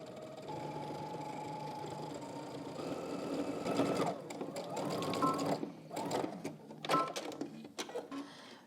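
A sewing machine edge stitching folded, pressed fabric in a steady, close whirring run that breaks into shorter bursts of stitching toward the end, with no talk.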